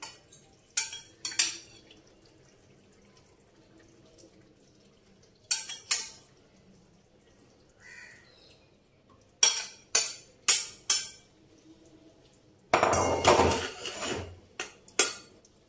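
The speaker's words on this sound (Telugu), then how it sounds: "ఇందులోకి ఈ చేపలు వేసేసుకుందాం" Fish pieces dropped into a pot of simmering masala curry, giving a few scattered clinks and soft splashes with one longer sloshing burst near the end, no talk.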